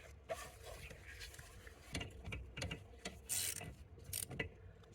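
A ratchet turning a coolant temperature sensor down snug on a Chrysler 300, close, faint clicking and mechanical scraping in short irregular bursts from deep inside the engine bay.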